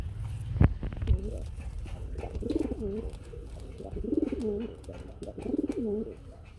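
Gola pigeons at a Bangladeshi pigeon market give repeated throaty coos in three or four rolling bursts, close and moderately loud, with a sharp knock near the start and a low background murmur of voices.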